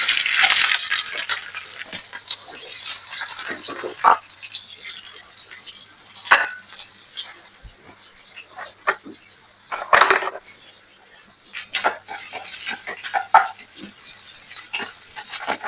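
Chopped onions and cumin seeds fry in a pan for an asparagus stir-fry, with a hissing sizzle, scraping stirs and occasional utensil clinks, loud at first and then rising and falling in bursts.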